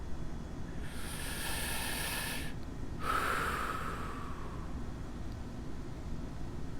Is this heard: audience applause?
no